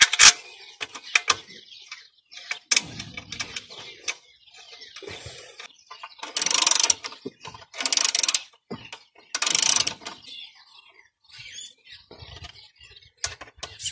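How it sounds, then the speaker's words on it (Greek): Last bolt being tightened on a Honda SCV100F Lead scooter, with irregular bursts of metallic ratchet clicking and tool clatter, close and fairly loud, separated by quieter pauses. "Τώρα μας απομένει η τελευταία βίδα."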